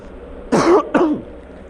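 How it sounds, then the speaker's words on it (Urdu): Two quick, close throaty coughs or throat-clearings in succession, loud against a quiet background. "گلہ خراب چاہ وجہ کھانسی ہے تھوڑی جی"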